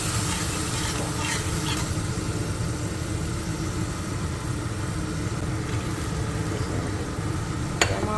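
Ground spice paste for a borali fish curry fries in a pan with a continuous low sizzle and soft bubbling, steady throughout, ending with a brief clink, and no one speaks.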